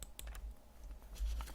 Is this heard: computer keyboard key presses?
yes